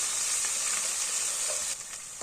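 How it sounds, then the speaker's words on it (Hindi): Chopped ginger and garlic frying in oil in a pan for chicken karahi, a steady, close bright sizzle filling the short stretch with faint stirring scrapes and no talk. "अब ये अदरक है जो है ना, ये मैं इसमें ऐड करूँगी। 2 मिनट इसको भी अब भूनेंगे।"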